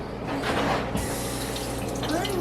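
Water from a kitchen tap runs steadily and fairly close as a dish is rinsed under the stream in a busy family home.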